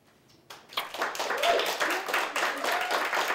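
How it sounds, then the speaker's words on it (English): Wedding guests applaud the newly pronounced couple at a ceremony, a burst of dense clapping starting abruptly and holding steady at moderate distance, with faint voices mixed in. "Give them a round of applause."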